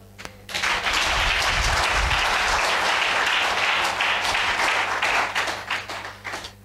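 Sustained applause from a church congregation at a prophetic and deliverance service, loud and dense for about six seconds before thinning into scattered claps, with a steady low hum underneath.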